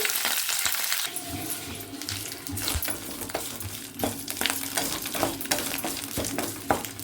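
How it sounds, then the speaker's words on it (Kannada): Fresh curry leaves sizzle and crackle in hot oil in a pan, a steady frying hiss with scattered sharp pops and spits, moderately close, with no talking. "ಹಸಿ ಇರುತ್ತಲ್ಲ ಕರಿಬೇವಿನ ಸೊಪ್ಪು, ಅದರಿಂದ ಆ ರೀತಿಯ ಶಬ್ದ ಬರುತ್ತೆ."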